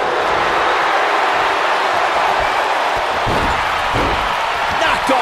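A wrestler is slammed off his feet in a WWE Raw ring, landing as a dull thud amid a loud, steady arena crowd roar with a couple of impacts near the end.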